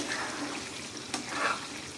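Chicken sautéing in its released oil in an open pan: a quiet, steady frying hiss with a faint tap of a spoon partway through.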